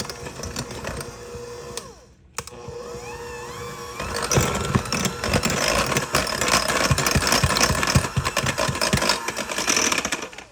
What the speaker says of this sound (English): I'm going to use my hand mixer, and let's get this creamy.